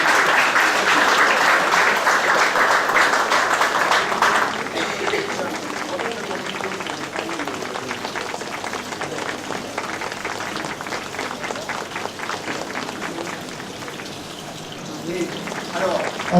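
Audience applause at a restaurant awards ceremony where a silver medal is presented, a dense wash of clapping that is loudest for the first few seconds, then settles into steady, slightly thinner applause for the rest.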